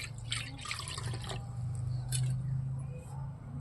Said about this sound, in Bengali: কড়ার মধ্যে এবার আমি জল দিয়ে দিচ্ছি